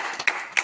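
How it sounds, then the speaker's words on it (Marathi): Short applause at a local KPL cricket match in Kondhran, honouring the man of the match: two quick sharp claps, close and distinct, in a brief snippet. "टाळ्या वाजवा रे, टाळ्या जोरदार वाजवा."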